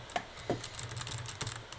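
Computer keyboard keys tapped during a gaming session, a few sharp scattered clicks at close range over a low steady background hum, with no voices.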